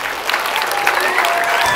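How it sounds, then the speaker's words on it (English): Brief burst of applause from a crowd, steady clapping for a couple of seconds. "One more round of applause for Ann."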